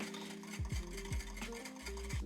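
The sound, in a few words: whisking cream of rice batter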